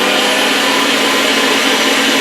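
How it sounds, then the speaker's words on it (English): An electric meat grinder fitted with its finest grinding disc runs at full power, a loud, steady, high-pitched motor whir that holds unbroken throughout. "we're just going to put a bowl under our grinder, and I have this on the finest grinding disc, and all I'm going to do is turn it on"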